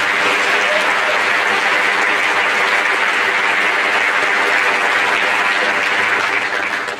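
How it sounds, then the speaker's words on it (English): Sustained applause from a graduation audience for the class of 2023 fills the whole stretch, a dense, steady wash of many hands clapping that only eases slightly at the very end. "You deserve a round of applause."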